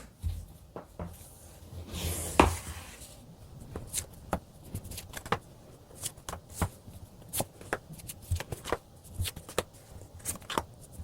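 Tarot cards shuffled in a quick riffling burst, then a run of sharp slaps and flicks as cards are drawn and laid down, close and distinct with no talk.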